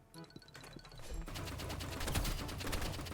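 Gunshots ring out in a competitive ranked shooter match, starting with a few sparse clicks and then swelling into a dense, sustained volley of rapid fire that stays loud and busy to the end.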